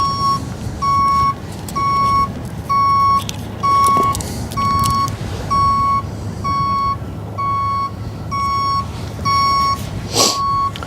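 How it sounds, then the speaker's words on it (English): A van pulling away near the Westerschelde waterfront sounds a loud, piercing reversing beep, repeating steadily about once a second over a low engine rumble and outdoor background, with no talk. "Wow, that is one loud ass beep."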